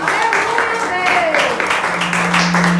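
A church congregation applauds in a steady patter of many hands clapping that fills the space and holds throughout, with a voice sounding over it.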